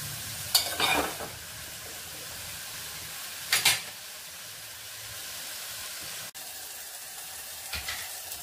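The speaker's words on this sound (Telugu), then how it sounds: "ఉల్లిపాయ వేగిందండి" Onion pieces fry steadily in a pan with a soft continuous sizzle, broken by a few short bursts of stirring and scraping as they are moved around.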